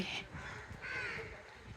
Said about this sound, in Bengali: এই যে উড়ে যাচ্ছে কত কত পাখি